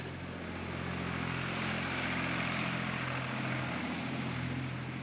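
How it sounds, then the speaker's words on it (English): A tractor passing close by on a rural road on a Greek island during a hot, dry summer, its steady low engine drone rising and holding loud and near for several seconds, with no talk over it. "There's a tractor about to go past us."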